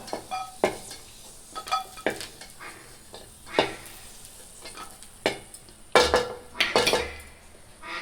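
Cashews frying in ghee, a soft continuous sizzle with regular scraping and clinking strokes of a spoon against the pan, closer and louder near the end, no voices.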